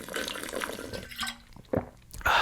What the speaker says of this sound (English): Just let me get some water here